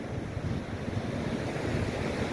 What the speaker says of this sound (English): The wind is rather chilly.